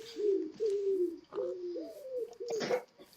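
A pigeon coos in a few soft, warbling phrases, close and fairly quiet, with a brief rustle near the end.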